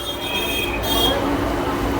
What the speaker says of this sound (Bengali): আজ এই প্রথম ট্রেনের চাকা গড়ালো